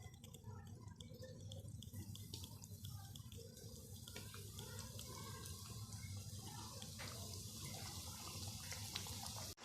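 French fries frying in mustard oil, a steady broadband sizzle and crackle that runs continuously and fairly quietly, close by with no talking.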